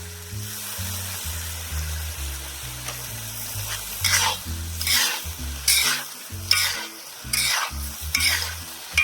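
Vegetables stir-fried with salt and soy sauce in a pan sizzle steadily while a utensil scrapes and tosses them in repeated bursts, close and clear.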